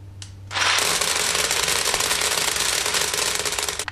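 A chainsaw-powered marble machine gun loaded with about 200 marbles fires a rapid, continuous crackling burst of roughly 50 shots per second. After a short low hum it starts abruptly, loud and close, and runs unbroken to the end.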